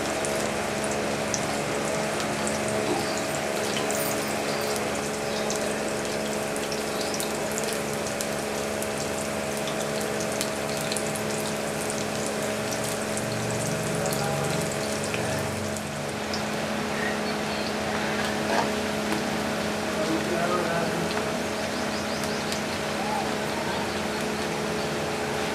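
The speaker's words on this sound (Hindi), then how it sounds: "प्याज को अच्छे तरीके से फ्राई करेंगे।" Onions fry in a pan for a petha salan, giving a continuous, even sizzle and crackle over a steady background hum for the whole stretch.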